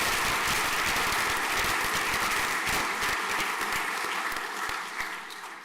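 A large audience at a school prizegiving gives a sustained round of applause that stays full and dense, then thins and fades near the end.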